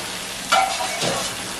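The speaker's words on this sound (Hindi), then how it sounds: "अब इसमें अच्छे से कोट करके गरम तेल में फ्राई कर लेना है" Russian cutlets coated in fine vermicelli dropped into hot oil, a sudden hiss and crackle that settles into steady frying, then a second burst as another cutlet goes in.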